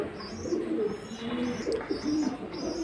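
Giribaz high-flying pigeons, including red Bajindar, mongoose-neck and silver birds, coo in a close, steady run of soft, throaty, overlapping calls with no talking.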